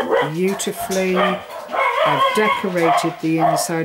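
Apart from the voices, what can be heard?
dogs barking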